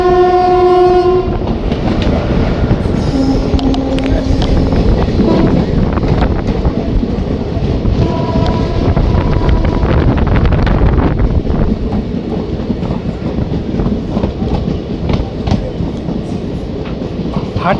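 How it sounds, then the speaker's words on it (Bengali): The Hatia Purnia Kosi Superfast Express passes loudly and close, opening with a sustained horn blast, then a continuous heavy rumble and clickety-clack of wheels with bursts of wind buffeting the microphone. "Hatia Purnia Kosi superfast express"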